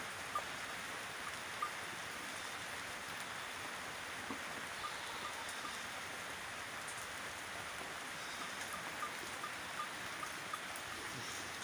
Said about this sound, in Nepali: पानी परेको परेको छ।